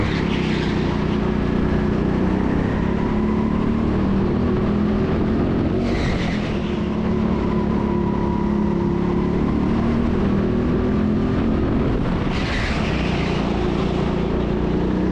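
Go-kart engines race around an indoor track at TeamSport, a steady loud droning hum with karts passing at intervals, some further off, and no speech.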